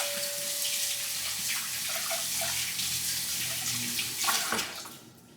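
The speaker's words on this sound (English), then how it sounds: "I'm gonna rinse my hands off." A kitchen tap runs steadily as hands are rinsed under it, a close, even gush of water with a few small splashes, ending in a brief clatter before the flow cuts off.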